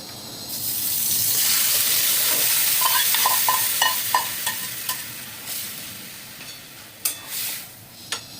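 Chicken fries in hot oil for a yogurt chicken dish, a loud, steady close sizzle with a row of light spoon taps and clinks as it is stirred; no one speaks.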